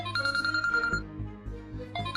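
A mobile phone ringtone plays a tonal electronic melody with repeated bright notes, stopping briefly and then starting again, fairly clear and close.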